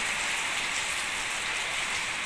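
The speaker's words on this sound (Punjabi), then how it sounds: "ਬਹੁਤ ਪੈ ਗਿਆ ਮੀਂਹ ਹਨਾ" Heavy rain pours down in a steady, dense hiss, loud and close, with no voices over it.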